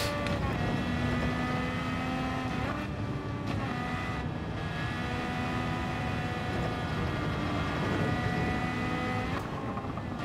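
A race car engine in the Gran Turismo 7 video game drones loudly and continuously, its pitch rising and falling through gear changes, with no talk over it.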